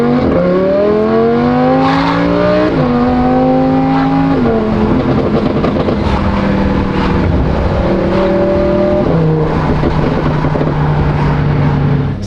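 A Lamborghini fitted with an F1-style exhaust revs loudly and close, its engine tone climbing and dropping through several rising sweeps and shifts, with pops and crackles between.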